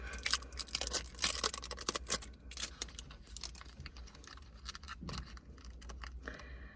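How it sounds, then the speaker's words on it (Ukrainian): Rustling, crinkling and tearing of packaging as a package holding an eyebrow wax is opened, with a run of close, busy crackles and snips early on, then quieter scattered handling noises. "Тож давайте з вами його разом відкриємо."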